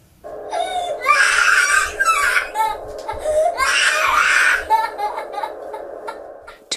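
A two-year-old toddler screams and cries at bedtime in loud, wailing bursts separated by sobbing breaths, close and continuous, with other voices briefly underneath.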